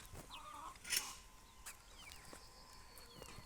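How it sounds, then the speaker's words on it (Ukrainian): Chickens clucking softly at a distance, a few faint short calls over quiet background noise. "Ось такі курчата виросли вже"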